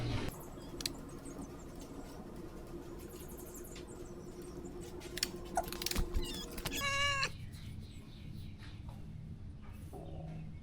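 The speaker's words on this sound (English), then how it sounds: "Here comes the cat." A cat makes a brief meow-like call near the end, alongside workshop noise from a build of an autonomous lawn mower using wheelchair motors, with no talk.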